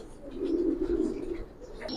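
Silver pankhi military pigeons cooing, a low soft throaty coo held for a moment nearby, with faint background noise.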